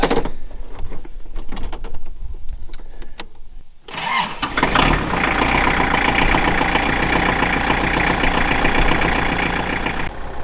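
A tractor engine cranks with rapid clicks and rattles, then catches and settles into a steady, loud, close idle that runs on evenly.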